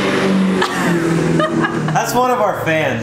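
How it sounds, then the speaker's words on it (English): A diesel pickup, a Duramax or Power Stroke, revs as it drives past on the road, its engine note rising under close talking and chuckling. "One of you guys drive by and you're like, just romping on your Duramaxes and power strokes."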